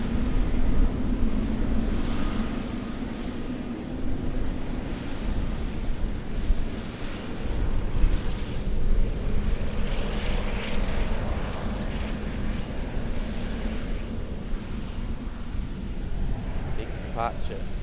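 Boeing 777 departing Auckland Airport bound for Taipei, a sustained engine roar and rumble running throughout, heard under intermittent talk from a nearby voice.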